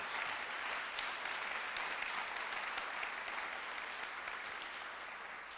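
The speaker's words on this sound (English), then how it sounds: "Let's give them all a great big round of applause." Commencement audience applause at a university EOC graduation ceremony, a sustained wash of many hands clapping, fairly distant in a large hall, tapering slightly toward the end.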